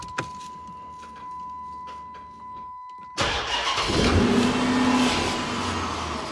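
A Chrysler 300C with a 5.7 Hemi V8 cranks and fires after a quiet stretch, then settles into a loud, steady idle that holds close up and alone.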